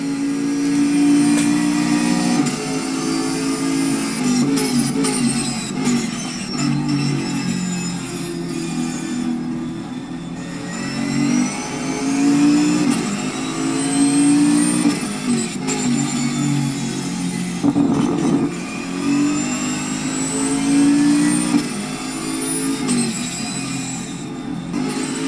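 A big Aston Martin GT race car in an endurance series race, heard from its roof camera: a loud, continuous engine drone with rising and falling gear-change sweeps that keeps going for the whole stretch, with no talk.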